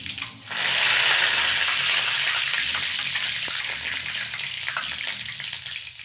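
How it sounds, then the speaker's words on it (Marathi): A loud burst of sizzling starts half a second in as curry leaves drop into hot oil with popped mustard seeds, then settles into a steady, hissing crackle close by. "मोहरी तडतडली आता कढीपत्ता टाकते"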